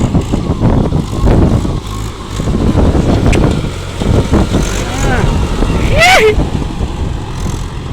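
A Mahindra 575 DI tractor engine runs while driving on a farm, a loud continuous close drone with someone talking over it and a brief whistling squeal midway.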